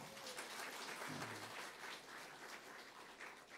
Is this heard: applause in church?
yes